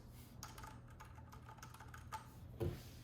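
Soft typing on a Keychron keyboard fitted with silent switches, a light irregular patter of muted keystrokes close by with a faint thump near the end.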